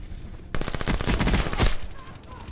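A VMP submachine gun fires in Black Ops 4, one dense burst of rapid shots lasting about a second after a brief quiet start, loud and close, then trailing off.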